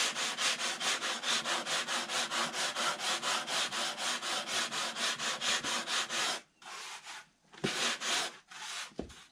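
Rhythmic back-and-forth sanding of the sides of a wooden piece in a shop, steady close strokes for about six seconds, then a pause and a few separate short strokes.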